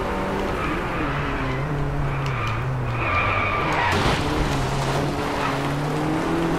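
Car tires skid and squeal through a tight handbrake turn in the DriveClub racing game in India, a sustained screech over a droning race engine whose pitch shifts as the car slides.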